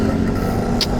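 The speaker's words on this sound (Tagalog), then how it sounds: "let's try this Vespa" A 150cc six-speed Vespa scooter idles with a steady low engine hum, close and continuous, a brief higher hiss appearing near the end; no talking.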